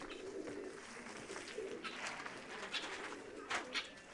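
Soft pigeon coos repeat at a moderate distance over a steady hiss of ambient background noise, with a few brighter chirps near the end.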